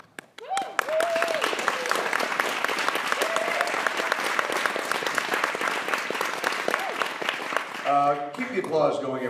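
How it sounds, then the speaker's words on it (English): Sustained audience applause fills a film festival interview stage in Whistler, steady and dense throughout, with a few voices cutting in briefly over the clapping near the end. "Keep the applause going, everybody"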